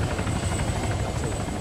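Helicopter rotor thudding steadily through a military video game, a continuous loud drone with a dense low beat and a sustained high whine, no talk over it.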